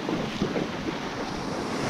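Rough ocean surf at a Puerto Rico beach, a continuous broadband rush of breaking waves mixed with heavy wind buffeting the microphone, no voices.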